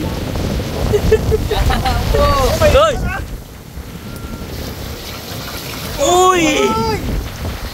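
Gusty wind buffets the microphone in loud rumbling bursts while people shout excited exclamations over it.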